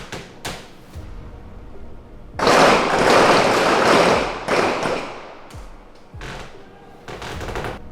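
Pistol gunshots on a police recruit firing range during a timed drill, heard as loud sharp bursts in quick clusters with a sustained volley in the middle and scattered reports before and after.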